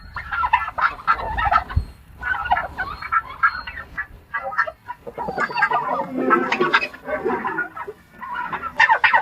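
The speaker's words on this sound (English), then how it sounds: "Okay, chickens come out. Turkeys stay." Turkeys gobbling loudly alongside clucking chickens on a homestead, repeated bursts of gobbles and clucks close by, with no talking.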